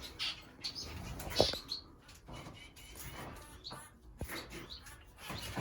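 Shaft-tail finches let loose into an aviary give scattered high chirps and brief tweets, with one sharper call standing out among soft rustling and fluttering nearby.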